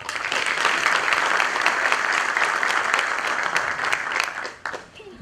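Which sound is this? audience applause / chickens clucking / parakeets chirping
audience applause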